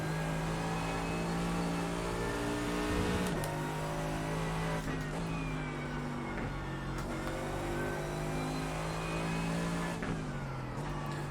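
A Mercedes race car engine in the iRacing video game at Zandvoort circuit revs and drones steadily, with sharp drops and rises in pitch at gear shifts and a rival car audible alongside.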